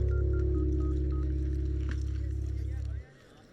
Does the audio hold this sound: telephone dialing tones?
yes